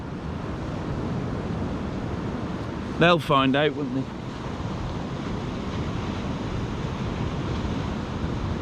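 Wind and surf on Easington Beach on the Holderness coast, a steady roar of waves and gusts throughout, with a brief spoken phrase midway.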